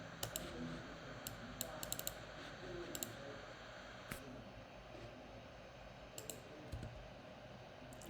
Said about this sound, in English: I want us to actually be able to see what I'm typing